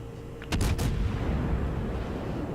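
Warship main guns fire in World of Warships, a sharp loud boom followed quickly by a second blast, then a long rumbling decay that fades under steady low background noise.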